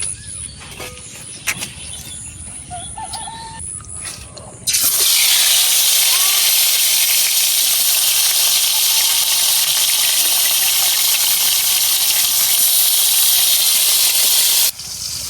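Taki fish (spotted snakehead) dropped into a hot pan for a village-style mash, starting a loud, steady sizzling hiss that bursts in around five seconds and continues nearly ten seconds, after quieter background sounds.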